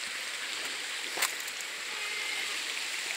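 Waterfall at the Uluazapa falls, about eight metres tall: a steady, broad rush of falling water fills the whole clip at an even level, with a brief brighter splash near the middle.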